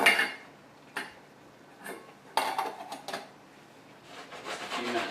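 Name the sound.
adding beef back into the pan for beef stroganoff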